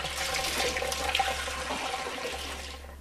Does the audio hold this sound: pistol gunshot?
no